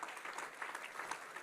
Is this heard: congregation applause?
yes